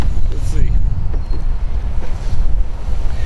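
A northwest wind gusts across a creek mouth on open water, loud and close, buffeting the microphone in a constant low roar. Faint water lapping and a brief voice sit beneath it.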